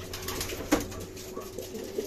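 Racing pigeons at a training site in Tanay, Rizal give a few soft, low coos. There is a clear call near the start and a fainter one near the end, heard close against a steady outdoor background.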